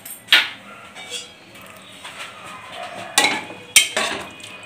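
A spoon stirs spicy mutton kosha in a cooking pot, giving a few sharp metallic clinks and scrapes spaced unevenly against a quiet kitchen background.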